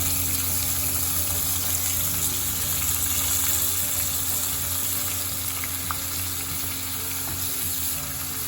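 Chopped onions and curry leaves fry in hot oil, a dense, steady sizzle that stays close and loud throughout with no talking.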